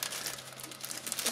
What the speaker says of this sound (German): ein erster Beutel, den ich auspacke, ist ein Doppelbeutel